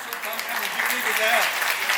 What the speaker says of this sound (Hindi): सर, जोरदार तालियां